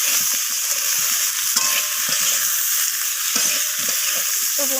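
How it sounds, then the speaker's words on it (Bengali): Fried drumstick stalks being stir-fried in a pan for a rohu fish curry, with a steady loud sizzle and repeated scraping stir strokes throughout, no talking. "সজনে ডাঁটাগুলো দিয়ে আবারও একসাথে এইভাবে নাড়াচাড়া করে কষিয়ে নিচ্ছি"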